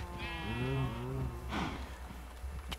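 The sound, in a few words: sheep bleating in Minecraft video game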